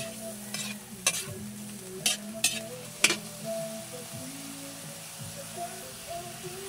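Green string beans for adobong sitaw are stirred in a frying pan, a soft continuous sizzle punctuated by several sharp scrapes and clanks of a utensil against the pan, with a faint voice in the background.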